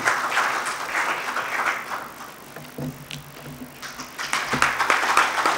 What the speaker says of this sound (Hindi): तो जोरदार सर के सम्मान में ताली बजा दे